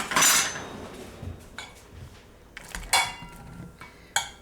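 Metal kitchen utensils and a masher clink and clatter as they are pulled out while making deviled eggs, several sharp close knocks scattered over a few seconds, no talking.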